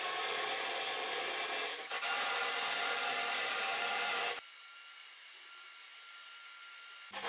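A flat wood bit grinds into a kitchen worktop in a loud, steady rasping whir for about four seconds, then the drill stops and a quieter background hiss remains.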